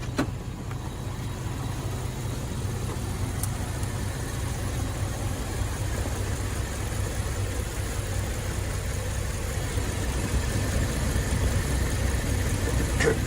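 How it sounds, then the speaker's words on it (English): A Ram pickup's engine idles smoothly and steadily with the hood open, a close, even mid-level rumble that holds for several seconds with no voices. "I'm gonna pop the hood here and take a listen, because I've never heard this engine running so smooth."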